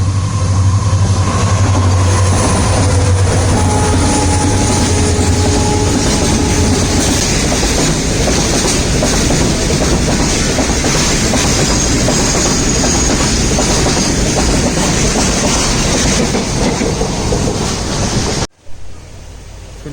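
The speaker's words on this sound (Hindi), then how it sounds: "और आगे गुड्स ट्रेन आ रही है क्रॉसिंग करने के लिए एट मणकी स्टेशन" Goods train crossing a passenger train at Manki station, heard from aboard the ICF-rake Matsyagandha Express: a loud, steady rumbling roar of rushing wagons and wind that fills the clip before cutting off abruptly near the end.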